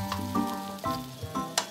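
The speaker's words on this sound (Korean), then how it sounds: "삼겹살과 소시지가 지글지글 구워지고 있습니다" Pork belly slices and sausages sizzle in a frying pan, with a steady crackle of spitting fat and a few sharper pops, close and moderately loud, with no voices.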